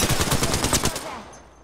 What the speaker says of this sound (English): Firing. Making contact with enemy.